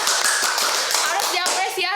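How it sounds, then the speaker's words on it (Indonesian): Audience applause at an Indonesian pageant question session, a brief burst of clapping lasting a couple of seconds, fairly close and dense. "Tepuk tangan pertanyaannya."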